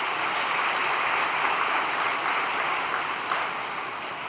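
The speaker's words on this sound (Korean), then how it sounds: "누구보다도 우리 주영이를 이렇게 살리기 위해 몸부림쳤던 우리 주영이 어머니께 격려와 사랑의 박수를 부탁드리겠습니다." An audience at a prayer gathering claps in sustained, dense applause that holds steady throughout, many hands close and loud with no voices on top.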